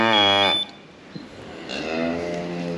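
A cow on a farm lets out two deep, drawn-out moos, the first loud and close, the second following after a short pause.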